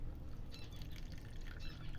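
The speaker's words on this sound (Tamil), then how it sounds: "இந்த தண்ணி இதில் ஊற்றிடணும்" Water pours steadily into a container, a soft continuous splashing and trickle, fairly faint and close.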